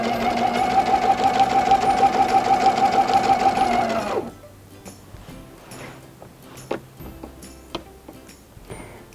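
A sewing machine doing free motion quilting with a ruler hums loudly and steadily for about four seconds, then stops, leaving faint ticks and small handling sounds.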